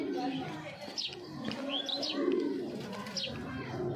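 Giribaz pigeon with a leg ring cooing in low, murmuring phrases at close range, with chirpy higher calls from other birds mixed in over steady background noise.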